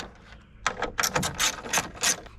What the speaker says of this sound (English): remove these 2 bolts on the taillights